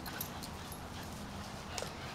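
Several puppies whimper and yip softly in a quiet room, faint high whines popping up briefly over a low steady background hiss.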